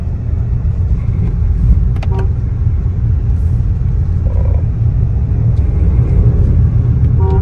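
A Mahindra XUV3XO petrol automatic SUV drives in Zip mode, a steady low engine and road rumble heard from inside the cabin with faint clicks.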